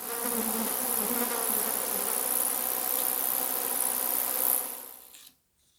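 A dense, continuous swarm of flies buzzes loudly and steadily up close for about five seconds, then fades quickly to near silence, with no talk.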